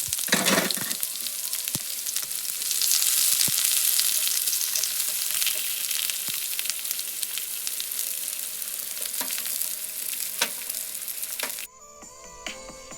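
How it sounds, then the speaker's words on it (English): Chopped onion dropped into hot frying oil in a pan, sizzling loudly and steadily for several seconds with occasional stirring clatter before it suddenly drops quieter. "Then pour down the cut up onion."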